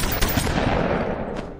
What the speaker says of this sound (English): next we got the AA-12. Very popular gun.